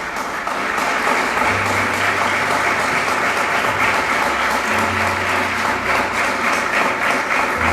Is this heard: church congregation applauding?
yes